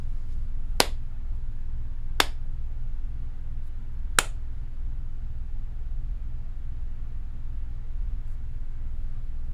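Three sharp, isolated hand claps made as an audio sync test while checking a Behringer setup, spaced a second or two apart over a steady low hum and hiss.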